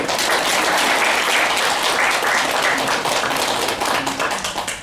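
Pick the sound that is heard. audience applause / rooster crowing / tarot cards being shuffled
audience applause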